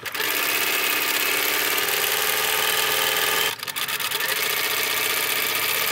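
A sewing machine stitching a quarter-inch seam on a rectangle-center log cabin quilt block, running in a loud, steady mechanical whir that breaks off briefly partway through, then resumes.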